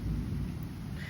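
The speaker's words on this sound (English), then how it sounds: "All the lightning strikes and thunder that I'm hearing are very far away." Far-off thunder during a severe storm in Manchester, New Hampshire, heard as a low, muffled rumble beneath a steady wash of rain and wind, brief and without talk.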